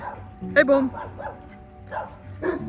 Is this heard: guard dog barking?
yes